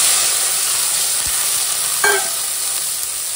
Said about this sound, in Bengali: ওই মাছ ভাজার তেলেই এখন কাঁচা লঙ্কা আর কালো দিয়ে ফোড়নটা দিয়ে দিলাম